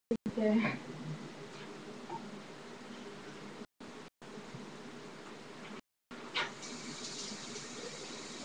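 Tap water running while a bottle is rinsed out at a sink, a faint, steady gushing stream with a few brief splashy bursts and short gaps where it cuts off, with no voices over it.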